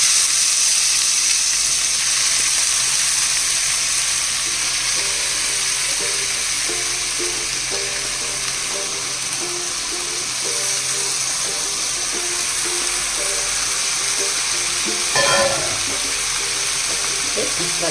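Shredded cabbage fries in hot oil in a pan for a thoran, giving a steady, moderate sizzle and hiss that runs throughout.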